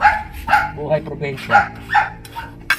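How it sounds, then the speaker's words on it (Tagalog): A dog barks repeatedly in a rural provincial garden, several sharp, fairly close barks spread across the moment, with a person talking over and between them. "naririnig mo tumatahol."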